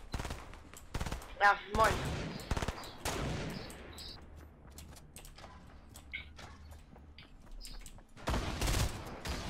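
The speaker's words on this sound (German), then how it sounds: "Er schießt auf mich" Bursts of enemy gunfire in Fortnite crack out in rapid volleys, loud near the start and again at the end, with scattered single shots between and a short spoken greeting mixed in.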